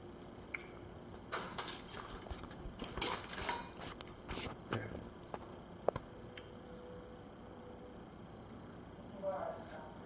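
A knife works through smoked halal beef brisket from a Traeger smoker, giving soft squishy cuts and clinks of metal on a board. The sounds cluster over a few seconds, fairly close, with people talking around them.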